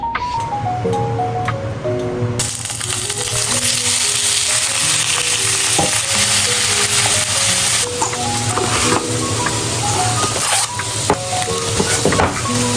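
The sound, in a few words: chicken and broccoli frying in a pan for stir fry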